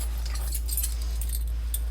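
Keys for a 2023 Cougar 22MLS RV jangle in a pocket, a soft, scattered metallic rustle over a steady low hum, close and fairly quiet, with no talking.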